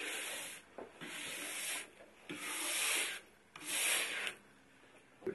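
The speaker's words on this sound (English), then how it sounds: "we want to work that wax out of the structure of the ski" Brushing wax out of a ski base's structure: long, soft, swelling rubbing strokes in a steady back-and-forth rhythm, close but faint, with no talk.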